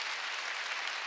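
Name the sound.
applause in a church congregation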